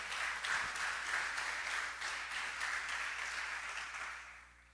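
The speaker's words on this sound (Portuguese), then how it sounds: "Dê glória a Deus e aplaude a Jesus" Applause from a church congregation, a steady wash of many hands clapping together, fairly faint and distant, fading out toward the end, with no talk over it.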